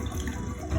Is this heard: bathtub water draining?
yes